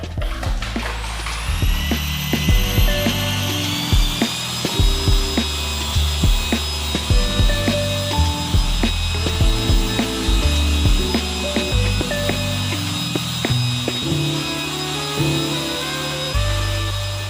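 A machine polisher works the paintwork of a 1979 Ferrari 512 BB, a loud, continuous high whine with steady droning hum and occasional knocks, close up and without talk.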